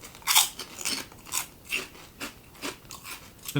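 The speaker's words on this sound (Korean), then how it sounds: "되게 바삭한 뻥튀기인데요?" Repeated crisp crunches of someone biting and chewing a light, airy puffed grain cracker, about eight bursts at an uneven pace, close to the mic with no talking.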